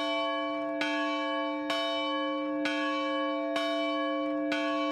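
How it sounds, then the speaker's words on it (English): A swinging church bell driven by an electric MagForce linear motor rings in a steady rhythm, five strong strikes about a second apart, each with a long sustained ringing tone that carries into the next, with no talking. "They operate by inducing a magnetic field into the plate that you see, which causes the bell to swing back and forth on its axis."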